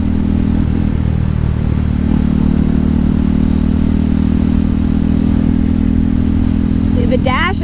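KTM 390 Duke motorcycle being ridden, its engine a loud, constant droning rumble throughout, heard from on the bike with wind noise and a brief clatter near the end.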